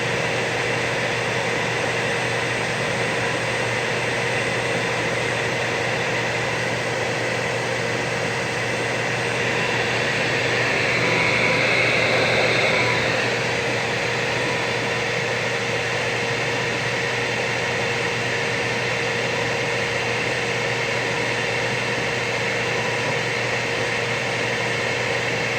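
Yeti SmartBench CNC machine cutting thin Rowmark plastic sheet, a steady, even whine and hiss that runs unbroken and swells slightly midway.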